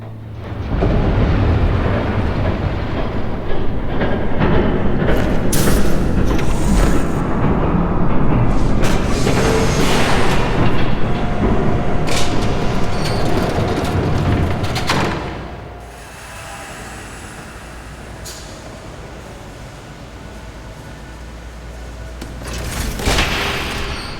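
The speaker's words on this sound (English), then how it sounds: "There's a train coming." A train rumbles past in a long, heavy, roaring wash of broadband noise with scattered clanks, then drops abruptly to a quieter rumble before a final swell.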